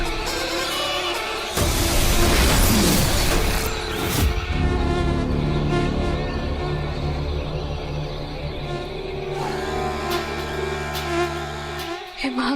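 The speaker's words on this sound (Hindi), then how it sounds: "पर इतने सारे मच्छर।" A dense swarm of mosquitoes buzzes loudly and continuously in a dramatic scene, layered over music-like tones throughout.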